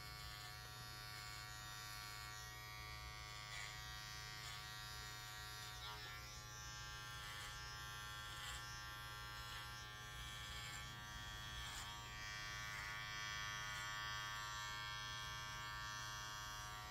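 A UFREE electric trimmer buzzes steadily up close as its blade cuts beard hair, a constant motorized hum with faint crackling snips scattered through it, quiet and without speech.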